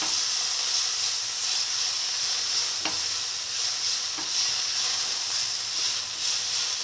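Fenugreek leaves with salt stir-fry in a hot pan, giving a loud steady sizzle and hiss with a couple of soft spatula scrapes, no voices, while noodles with soy chunks are being prepared.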